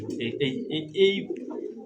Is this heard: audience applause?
no